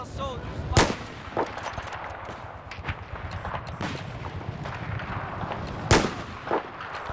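Explosions and gunfire in the Battlefield video game, including an enemy's ammo blowing up, come as sharp distant bangs and scattered shots over a low rumbling battlefield background, fairly faint overall.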